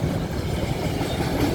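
An Alaska Railroad freight train bound for Fairbanks near Wasilla gives off a steady low rumble and engine drone, continuous and moderately loud, with no voices.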